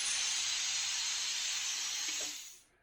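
Compressed air set to 30 psi hisses steadily through a budget plasma cutter's torch, a loud, close, continuous rush that cuts off abruptly after about two and a half seconds.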